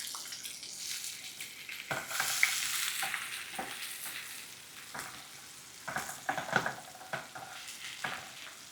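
Chopped garlic and onion sizzle in hot oil with popped mustard seeds in a pan, a steady close frying hiss broken by repeated stirring scrapes and clatters, with no voices.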